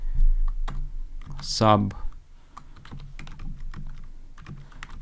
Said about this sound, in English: here we're gonna type item ID